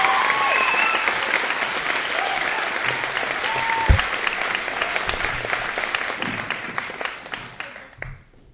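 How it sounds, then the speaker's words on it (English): Commencement audience applauding the valedictorian as he takes the stage, a dense, loud, steady wash of clapping filling the hall and fading out near the end. "You're clapping and I haven't even said anything yet."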